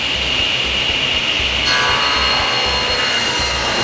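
Saw cutting wooden pieces to 2.5 inches wide for a picture frame in a woodshop, a steady loud rasping cut that shifts to a brighter, harsher tone partway through, with no talking.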